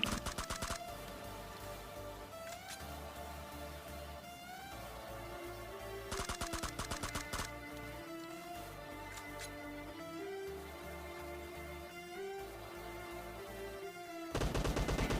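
Gunfire in PUBG Mobile Season 14 plays on a high-ping connection, with loud bursts of rapid automatic fire breaking out several times over a quieter game background.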